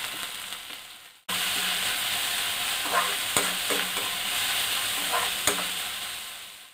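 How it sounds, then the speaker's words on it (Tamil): Onion, garlic and green chili sauté in a hot pan for gobi manchurian, with a steady loud sizzle that starts abruptly, broken by several spatula scrapes and stirring clicks. No one talks. "அதெல்லாம் வந்து நம்ம ஆட் பண்ணிக்கலாம் வேக பண்ணிட்டு நல்லா வந்து வதக்கி விட்டுருங்க"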